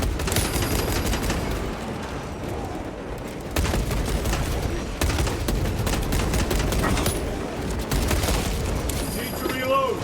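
A heavy bolt rifle fires in the Warhammer game Space Marine 2, rapid loud bursts of gunfire in several volleys with brief gaps, dense with combat noise and a voice speaking over it.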